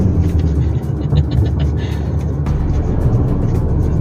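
Toyota Hilux under full throttle, a loud continuous engine and road roar heard from inside the cab, with no clear speech over it.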